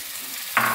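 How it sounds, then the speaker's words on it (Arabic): Kofta meat frying in a little oil in a pan, a steady soft sizzle that swells louder near the end of a very short moment, close and with no voices. "نديرو شويه ديال الزيت بلديه بطبيعه الحال ونعملوا الكفته ديالنا تشحر وتنزل."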